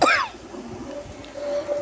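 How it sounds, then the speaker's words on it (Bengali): A single short cough from a woman nearby, sharp at the start and followed by quiet room sound. "আমার না খুব কাশি হয়েছে জানো তো বন্ধুরা।"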